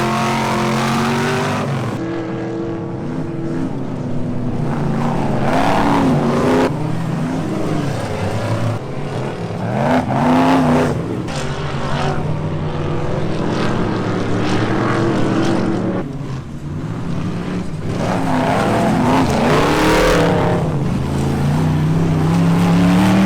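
Race cars in a 25-lap race with the whole field running at once, engines whining and surging as they pass, a dense continuous roar with rising and falling pitch at mid distance.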